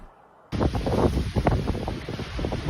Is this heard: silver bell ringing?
no